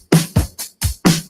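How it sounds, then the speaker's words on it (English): Drums in a cover song, four punchy hits alternating kick and snare in a quick steady beat, loud and close with no voices. "Step 2, you gotta play some drums that sound just like this."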